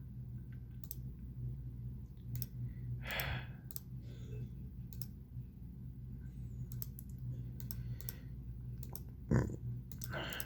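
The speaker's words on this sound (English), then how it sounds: "I'm going to click this one." Mouse clicks selecting an option in The New Campaign Trail 1912 Edition computer game, with several sharp, faint clicks scattered over a steady background hum and a sigh or breath.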